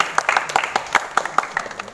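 An audience at a school ceremony honouring Class X toppers claps in a loose, uneven run of distinct hand claps, fairly near, with voices mixed in underneath.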